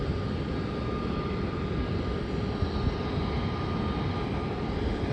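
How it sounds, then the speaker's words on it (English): A Boeing 737 airliner of a Western Australian carrier taking off at night on a flight to Sydney, heard as a steady, continuous jet roar, distant but full, with no voices. "the flight to Sydney just took off, and that is an Western Australia Boeing 737"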